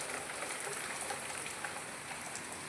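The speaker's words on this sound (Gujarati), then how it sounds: "ધોધમાર વીજ વરસાદ આવે છે ને વીજળી એ થાય છે" Heavy monsoon downpour in Jamnagar during a lightning storm: a steady, dense hiss of rain pounding surfaces close by, even and unbroken, with no thunder or voices.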